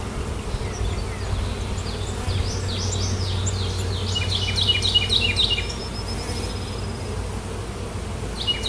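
Honeybees droning steadily from an opened hive during an inspection after two years, a dense close buzz throughout with bird chirps threading above it in the middle.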